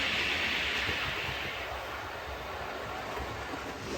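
A model train fitted with a newly installed DCC chip runs along its track at a fairly swift pace, a steady close rolling rumble and hiss of wheels that continues throughout.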